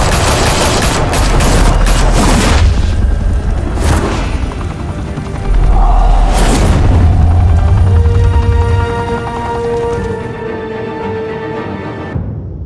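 Gunfire erupts in the Batman: The Telltale Series game, loud dense bursts and booming blasts layered over a droning helicopter-like rumble, fading into a sustained tonal hum near the end.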